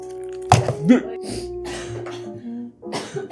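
A sharp cough bursts out, followed by a second rough cough and some throat clearing, with a voice speaking in between.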